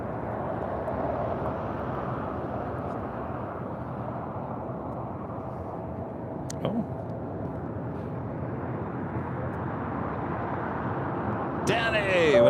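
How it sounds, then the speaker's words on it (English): United Airlines Boeing 737-900ER taking off from LAX, a sustained rumbling jet roar that swells slightly near the end, with voices and radio chatter faintly over it. "This is United Airlines 1029, taking off to Denver, Colorado, 737-900-ER."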